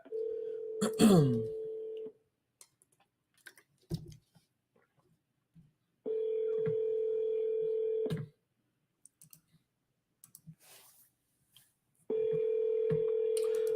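Outgoing phone call ringback tone, three steady two-second rings spaced several seconds apart, with clicks and faint sounds between them and no answer.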